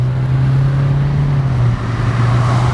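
A Chevrolet Trax 1.6 diesel accelerates with traction control switched off, giving a steady, loud low engine drone with a constant road rush, heard from close by. No one speaks.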